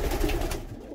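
Pigeons coo in a low, soft murmur inside a pigeon loft, heard close and steady, with no voices.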